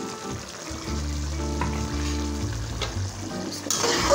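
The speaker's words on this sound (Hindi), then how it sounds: "मसाला डालने के बाद अब हम इसको अच्छे से भून लेंगे और फ्लेम मैंने तेज़ ही रखी है।" Chicken karahi with yogurt masala sizzles hard over a high flame, a dense continuous frying hiss with stirring and a low steady hum beneath, close and fairly loud, no voices.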